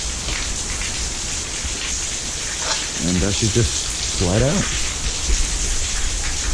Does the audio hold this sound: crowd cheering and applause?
no